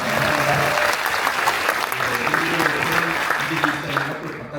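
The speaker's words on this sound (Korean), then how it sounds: "큰 박수 한번 보내주시죠" Crowd applause at a Democratic Party guerrilla talk show in Suwon, Gyeonggi Province, a dense sustained clapping from many hands that holds steady throughout, loud and close.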